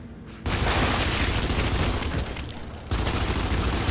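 Dense, continuous gunfire and blasts in the video game Gears 5 during a co-op fight, loud and sustained across the whole stretch with a short lull midway and no voices.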